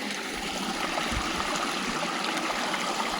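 A mountain stream in the Uttarakhand hills flows near a village, giving a steady, close rush and gurgle of water that runs unbroken with no voices.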